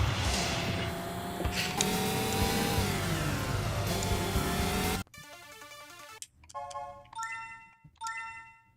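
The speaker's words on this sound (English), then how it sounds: "Why is my car making all these weird noises?" A loud, droning synthetic car engine in the racing game Sega GT 2002 revs and shifts pitch, then cuts off abruptly, followed by bright electronic chimes and dings.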